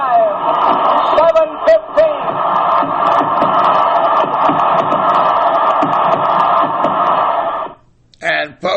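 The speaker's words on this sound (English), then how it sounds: "The sellout crowd is cheering Henry Aaron, the home run king of all time." A sellout baseball stadium crowd roars in a dense, continuous wall of cheering for Henry Aaron's record home run, loud and sustained for several seconds before cutting off abruptly, with shouts rising out of it.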